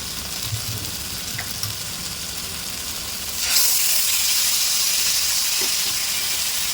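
Marinated chicken for reshmi chicken goes into a hot pan, bursting into a sudden loud sizzle and hiss that holds steady after a quieter stretch.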